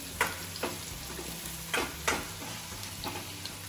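Onions frying in a pan for a home-cooked meal, a steady low sizzle with several sharp crackling bursts scattered through, close and moderately loud, no talking.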